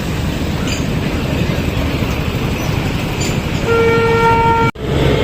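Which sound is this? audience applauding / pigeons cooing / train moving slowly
train moving slowly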